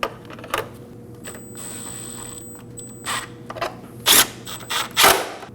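A ratchet snugging the battery hold-down nuts on a Nissan Armada gives a few short, close clicking bursts, with a faint steady whine running underneath.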